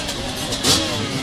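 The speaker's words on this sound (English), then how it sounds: "The guys I know just getting their engines warmed up" Off-road race motorbike engines warming up at a cold quarry pro-class event, a close engine idling and then revving in a short swell before settling, with nobody speaking.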